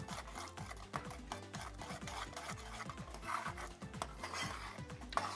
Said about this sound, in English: And then we just stir it up